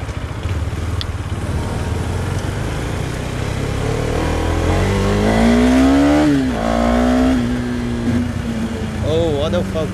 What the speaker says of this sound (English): Wow, BMW 1000 RR. That sound.